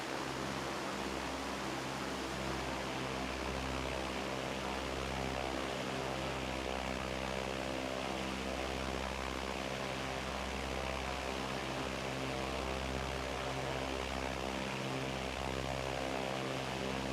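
A Cessna 172 light propeller plane engine drones steadily and loudly throughout, a continuous close cockpit hum with strong low harmonics, heard alone without talk, as flown in a flight simulator near Innsbruck and Zell am See.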